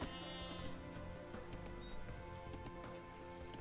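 Sheep bleating in the Age of Empires 2 Definitive Edition video game, a few short bleats over dense game music and effects, faint in the mix.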